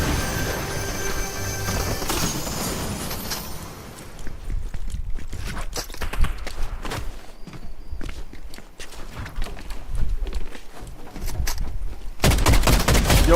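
Rifle gunshots in the Fortnite video game, sharp repeated reports in an irregular rapid string through the middle, mixed with footsteps and other game noise, loud and close.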